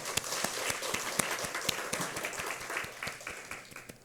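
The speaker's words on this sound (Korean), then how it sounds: "우리 찬송 가운데 임하신 하나님께 감사와 영광의 박수 올려드리겠습니다" A church congregation claps after a hymn during Sunday morning worship, a moderate, somewhat soft patter of many hands with distinct individual claps standing out, fading slightly toward the end.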